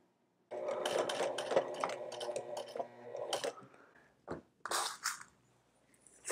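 Sewing machine top stitching the sleeves of a bomber jacket made from couch fabric, a steady close mechanical whirr for several seconds, then brief stop-start bursts with short gaps.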